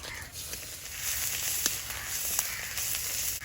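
Old garlic frying in oil in a wok gives a dense, continuous sizzle with a couple of faint pops and clicks. It is close and even, with no talk.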